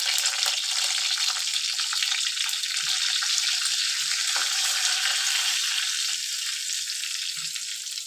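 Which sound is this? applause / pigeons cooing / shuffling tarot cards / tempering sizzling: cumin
tempering sizzling: cumin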